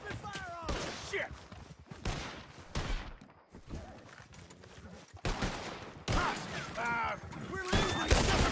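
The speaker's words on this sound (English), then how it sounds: "Open fire on him!" Gunfire in Red Dead Redemption 2 crackles in repeated bursts of shots, with voices shouting over the fusillade throughout.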